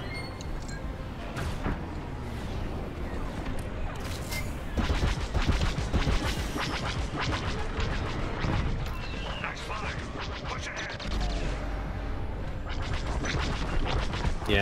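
Starfighter laser cannons in Star Wars: Squadrons fire in rapid, dense bursts, loud and close, with booms and explosions mixed in and voices talking over the continuous combat.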